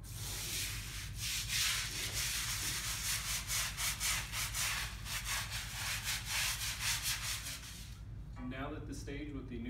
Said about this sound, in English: then I'm going to hand scrub the grout joints